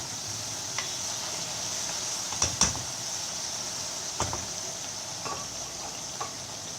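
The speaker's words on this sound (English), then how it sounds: "Now give this a very good stir" Paneer tikka masala gravy being stirred in a pan, with a steady soft sizzle and a few scattered scraping clicks of the spoon against the pan, nearby and fairly quiet, no talking.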